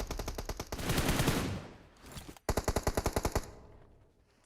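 Automatic gunfire from a PUBG Mobile Global Championship esports match rattles out in two rapid bursts. The second burst is sharper and more clearly separated into shots, with no voices over it.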